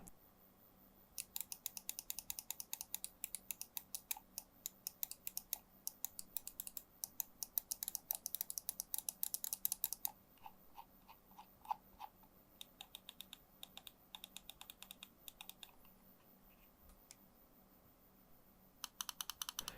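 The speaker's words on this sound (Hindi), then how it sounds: "So expect extra clicky sound with this mouse." Cougar Minos X2 gaming mouse with Omron micro switches rated for 20 million clicks, giving sharp, quiet clicks in fast, irregular bursts with brief pauses between runs, heard alone in a quiet room.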